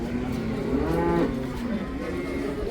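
A cow, likely a pregnant red one, gives a single drawn-out moo at the Karabulak livestock market, close and clear over faint crowd murmur.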